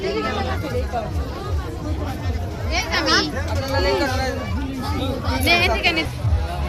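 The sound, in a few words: crowd babble at a riverside fair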